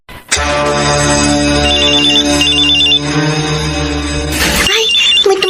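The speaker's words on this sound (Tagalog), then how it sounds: "Ay, may tumatawag sa cellphone ko." A cellphone ringtone plays loudly and steadily, a repeating melodic tune with chirping high tones, then briefly stops and resumes after a short break.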